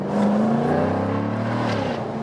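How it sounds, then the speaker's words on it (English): A 2020 Jaguar F-Type P450 R-Dynamic V8 cabriolet revs loud and close, its engine note rising and holding in a smooth, steady growl for a couple of seconds without any talking. "This engine is so silent and smooth when it's kept at lower RPMs, but then really explodes."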